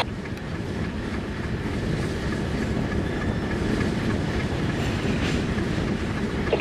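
Freight train with helper locomotives rolling past, a steady rumbling roar with faint clickety-clack of wagons on rails, continuous and fairly near, without voices.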